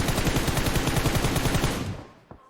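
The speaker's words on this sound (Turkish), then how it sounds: "Lan başkası da ateş ediyor." Automatic gunfire in the mobile battle royale game PUBG Mobile: a rapid, steady burst of loud close shots lasting about two seconds, then fading out with a single faint shot afterward.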